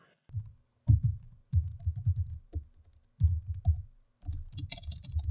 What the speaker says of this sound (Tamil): இந்த கீபோர்டு யூஸ் பண்ணும்போது சவுண்டு எப்படி இருக்குன்னு நீங்கள் கேளுங்கள்